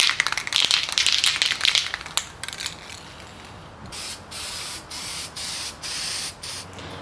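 High-temp flat black spray paint hisses from an aerosol can onto an aluminum radiator support for a 73-87 Chevy C10, first as a long irregular spray, then in five short, even bursts close to the microphone.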